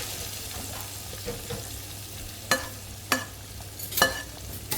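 Cumin seeds, whole dried red chillies and curry leaves crackle and sizzle in hot oil for a tadka, with a few sharp pops and spits rising over a steady frying hiss.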